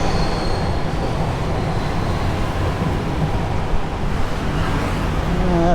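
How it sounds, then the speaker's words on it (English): A Jakarta MRT train rolls past on a noisy downtown street, a steady loud rumble of wheels and rail noise with faint squeals near the end, blended with surrounding city traffic. "That's the Jakarta MRT."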